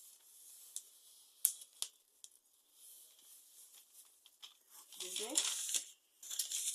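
Paper being cut to make a cover for a book, with soft crinkling and snipping rustles scattered through, a few sharper cuts standing out, and a voice speaking briefly near the end.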